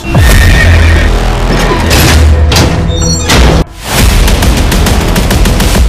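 A horse neighs loudly in a horse-racing movie trailer, its whinny mixed with heavy booms and dramatic effects that cut off briefly before resuming.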